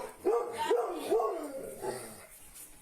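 Dog barks at a home doorway, three quick barks in a row followed by fainter yips, fairly close, with talk nearby.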